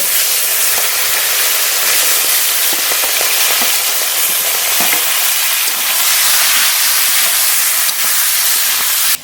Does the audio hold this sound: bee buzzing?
no